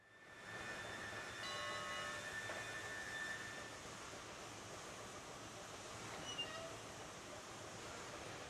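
A train from the game Railroads Online runs steadily, a continuous rolling rumble with faint tonal whine, loud and unbroken throughout with no talk.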